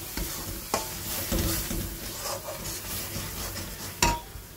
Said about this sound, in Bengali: এদিকে ডিমের মশলাটা কষানো হচ্ছে।